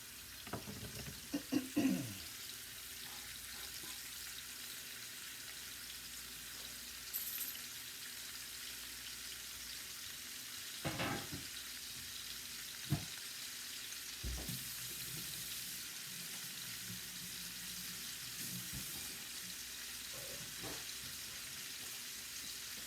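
Pork searing in a hot pan without olive oil, a low steady sizzle running through the whole stretch, broken by a few sharp clanks and stirring knocks, with no talking.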